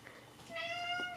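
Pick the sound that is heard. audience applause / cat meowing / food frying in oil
cat meowing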